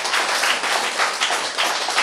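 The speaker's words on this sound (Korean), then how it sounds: "박수." A lecture audience clapping together in a steady, dense burst of applause that fills the short moment, fairly close and with no talking over it.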